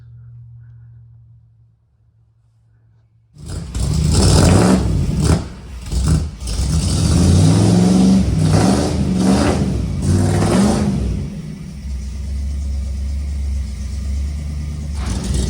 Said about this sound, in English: That fuel injection has to learn the motor. That's why it's kind of loping around there.